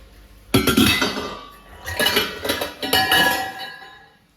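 Piles of utensils are lifted and set down in a home kitchen, sharp metallic clinks and clatters coming in close bursts with brief pauses between them.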